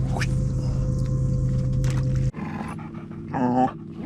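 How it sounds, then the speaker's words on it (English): Two dogs pant close by, a loud steady rush that cuts off abruptly and gives way to quieter shuffling and a brief yelp-like sound. "I got 2 dogs on me now."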